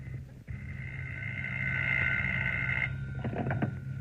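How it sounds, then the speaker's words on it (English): A steady electronic telephone tone rings for a couple of seconds over a low hum, then breaks into shorter pulsing beeps, in a radio drama. "I heard my phone ringing"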